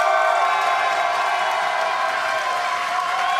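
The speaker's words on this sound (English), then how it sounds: "Let's hear some energy from the crowd." Dense crowd noise at a live chess event in Paris fills the whole stretch, a steady roar of cheering and applause with no single voice standing out.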